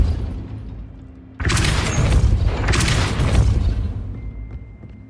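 Depulso force spell cast in the Hogwarts Legacy video game near a gate, a sudden loud booming burst followed by sustained roaring, crackling blasts that swell and fade over several seconds.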